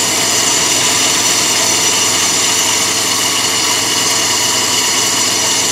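A Chevy K1500 pickup engine runs with a loud, noisy accessory pulley, producing a steady, dense mechanical roar and whine that stays close and loud throughout without pause.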